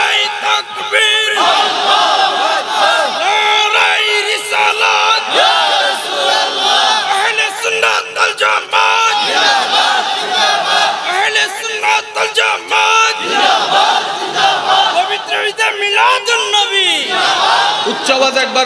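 A large crowd at a Bangla religious gathering roars back in unison, answering a takbir call with loud, sustained chants of Allahu Akbar in repeated waves.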